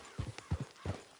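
Horse hooves clip-clop in Red Dead Redemption 2, paired thudding footfalls repeating in a quick, even rhythm, close and moderately loud with no talking.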